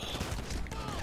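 Quiet burst of gunfire aimed at the player in a police roleplay video game, a short rattle of shots at a distance with some voice mixed in.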